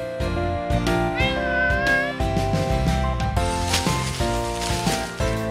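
A cat meows a few times in a Project Sekai game story scene, the high cries rising over steady background music with no talking.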